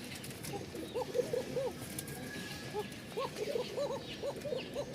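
A pigeon calls with thin, drawn-out coos, repeated in two clusters at moderate distance over a faint background hiss.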